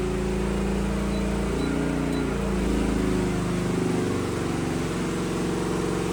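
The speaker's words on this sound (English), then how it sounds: "I can hear the engine speed slowing, so I think we cannot sustain that" Champion 8750W generator running on natural gas under full load, a steady loud engine drone with low harmonic hum whose pitch shifts and sags partway through, heard alone without voices.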